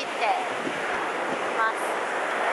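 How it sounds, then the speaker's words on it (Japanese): Strong ocean waves breaking at the shore, a continuous wash of surf and hiss with wind buffeting the microphone, moderately loud and close, with a voice briefly heard in the background. "波がすごい強い。"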